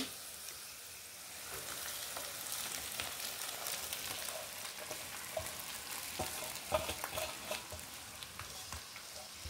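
Poha tossed into a pan of sautéed cucumber mixture and stirred, producing a soft continuous frying sizzle with rustling, scraping spatula strokes, quiet and close, with no talking.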